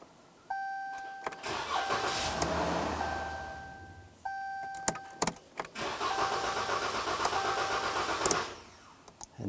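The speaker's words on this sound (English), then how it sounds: "Then you want to start the truck and wait for it to die." A Ram 1500 pickup with the 3.6L engine and its fuel pump fuse pulled starts up alongside repeated electronic chime tones, runs briefly, then keeps running with a steady roar until it suddenly cuts out near the end.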